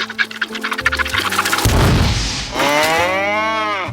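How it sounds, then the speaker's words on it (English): A cow lets out a loud, drawn-out moo in an animated cartoon scene, arriving after a burst of clattering noise and a heavy boom, the low bellow sliding downward and holding close and strong to the end. "Peter, where'd you get that cow?"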